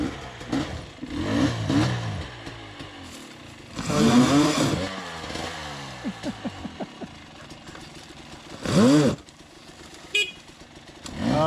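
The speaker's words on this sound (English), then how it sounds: "the shame of the horn honking now" A Husqvarna 300 enduro motorcycle engine revs in bursts with idling between on an off-road trail, and a brief horn sounds near the end.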